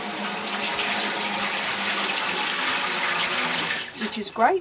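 Tap water runs steadily into a plugged outdoor garden sink used for washing soil off vegetables, a broad continuous rush that fades near the end, with brief speech at the close.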